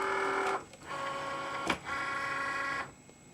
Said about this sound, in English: I'm going to go ahead now and press the blinking load button.